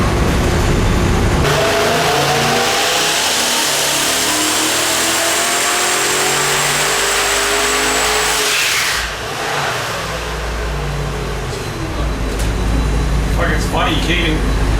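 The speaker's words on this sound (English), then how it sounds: "like air noise is louder than the damn exhaust" A revving 1,100-horsepower twin-turbo 447 cubic-inch LS engine with a loud, high-pitched whine of rushing air, rising then dropping, while people talk over it.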